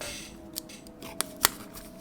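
A knife slitting open plastic packaging around NiceHCK F1 planar magnetic earphones: a couple of short, sharp scratchy ticks over a low steady room hum, close and fairly quiet, no talking.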